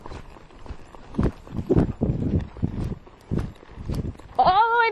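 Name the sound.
horse hooves loping in an arena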